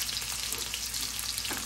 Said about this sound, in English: I want to saute these onions